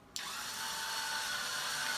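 Youkada electric spin scrubber switched on with a sharp click, then a steady whirring motor whine that holds on alone and close.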